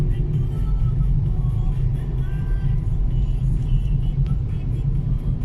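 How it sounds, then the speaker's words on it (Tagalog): Heavy road traffic crawls along a flooded street in Lapu-Lapu, making a steady, close low rumble of idling and slowly moving car engines that never lets up. Faint voices sit beneath the drone. "Sobrang traffic."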